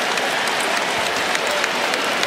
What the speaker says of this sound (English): the fans behind are applauding